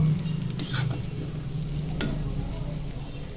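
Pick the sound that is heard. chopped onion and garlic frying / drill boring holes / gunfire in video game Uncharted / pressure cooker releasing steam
chopped onion and garlic frying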